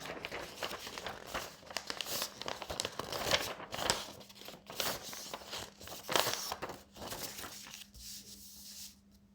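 A sheet of paper is handled with soft, quiet crinkling and rustling in a string of short bursts, fading toward the end.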